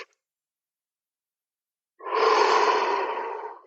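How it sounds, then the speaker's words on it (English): A single deep, slow breath, heard close and alone after near silence, a long airy rush lasting over a second and a half. "So if you just breathe in"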